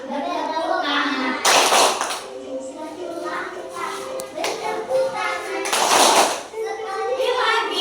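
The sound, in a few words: children clapping hands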